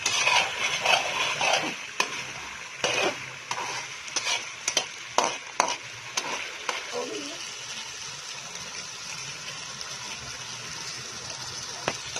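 Vegetables for chicken macaroni fry in a pan while being stirred, giving a string of close, scraping stirs over a sizzle that settles into a quieter, steady hiss.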